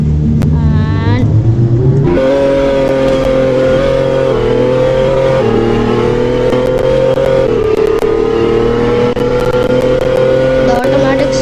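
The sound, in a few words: car accelerating in the Driving Empire video game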